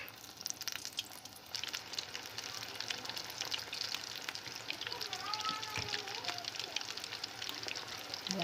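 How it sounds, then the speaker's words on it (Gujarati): Samosas sizzle and crackle steadily in hot oil, a continuous close frying hiss with small pops, while someone speaks over it. "જો હવે આપણે એને તળી નાખવાના છે. તો જો તેલ પણ આપણું ગરમ થઈ ગયું છે"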